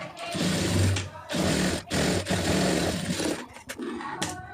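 A sewing machine stitches a lined blouse, a close, rough motor whir that surges and dips in short uneven runs with brief breaks.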